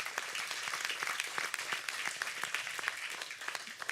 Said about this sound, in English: Give a hand of applause to yourself.